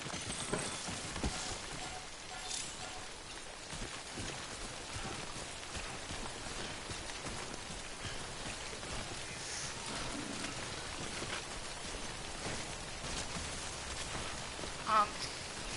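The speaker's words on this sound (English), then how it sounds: "Don't stay out in the rain any longer than you have to." Steady rain (timefall) patters continuously across the landscape in the video game Death Stranding, a soft, even hiss that runs without a break throughout.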